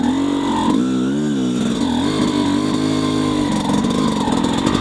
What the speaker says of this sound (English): The engine successfully restarted.